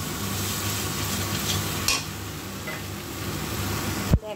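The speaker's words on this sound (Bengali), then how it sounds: "চলো এবার আমি মশলাটার মধ্যে জলটা অ্যাড করে দেবো।" A spice paste fries in a pan with a steady close sizzle and occasional stirring scrapes, then water added near the end sets off a short, sharp hiss.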